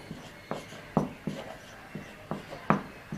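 Chalk or marker on a board during a physics lecture, a series of soft tapping and scratching strokes in an irregular rhythm, close and fairly quiet.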